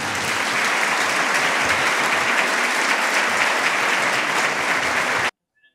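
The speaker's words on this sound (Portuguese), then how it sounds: "Queremos en esta mañana que recibamos con un fuerte aplauso a nuestro amigo del alma, Divaldo Franco." Loud, steady applause from a conference audience welcoming a speaker, a dense uniform wash of clapping that holds for about five seconds and then cuts off abruptly.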